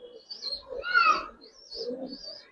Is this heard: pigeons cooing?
yes